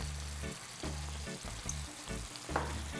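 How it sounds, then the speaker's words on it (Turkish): Tantuni meat with tomato, paprika, red pepper and salt is stirred in a frying pan, producing a close, steady sizzle broken by repeated rhythmic scraping strokes, with no voices. "Her şeyi güzelce bir karıştırıyorum."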